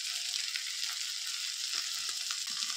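Ground coriander, mace, turmeric and cumin are stirred into hot oil in a pan for a Bengali fish-head muri ghonto, giving a steady, close, bright sizzle with soft scraping stirs near the end and no talking.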